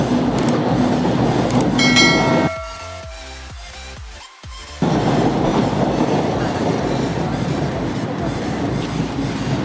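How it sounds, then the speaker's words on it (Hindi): A train passes by a village track in Rajnandgaon, Chhattisgarh, loud and near, with a steady rumble and clatter, a brief sharp squeal, a short lull of rhythmic clacking, and then the heavy roar again. "एक ट्रेन क्रॉस हो गए, अब दूसरा ट्रेन भी आवत है"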